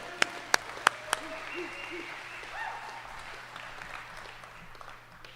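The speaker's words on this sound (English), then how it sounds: "Everybody give a round of applause right now." Applause from a graduation ceremony audience, a steady moderate patter of many hands with a few sharper individual claps near the start, sustained throughout at mid distance.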